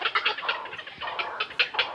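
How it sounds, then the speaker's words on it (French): Grey heron calls at the Lindre pond, a bird-rich wetland in Lorraine, France: a string of harsh, rasping squawks in short uneven bursts, fairly close and clear, with no talking. "C'est le héron cendré que l'on entend et qui fait essentiellement ce bruit, ce chant."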